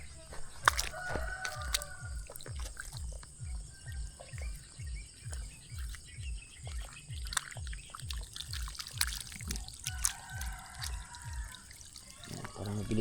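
Chickens cluck and a rooster crows near a flooded rice field, with brief calls scattered over a constant rhythmic pumping or engine-like thumping and faint insect chirps.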